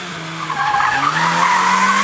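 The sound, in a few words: Honda Fit car skidding in gymkhana run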